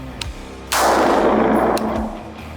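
A single loud gunshot on an outdoor shooting range cracks out sharply and rings on for over a second before fading, with a couple of faint clicks beforehand and no talking.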